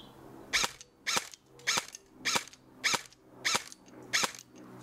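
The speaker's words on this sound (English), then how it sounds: "maybe I'll just shoot at the thing there" A G&G CM16 airsoft rifle fires single shots at a target, eight sharp snappy cracks at an even pace about every half second, close and clear with quiet between shots.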